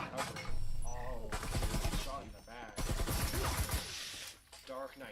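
Rapid bursts of gunfire crackle from a competitive tactical shooter match, layered under an excited caster's fast commentary, with dense, repeated shots coming in clusters.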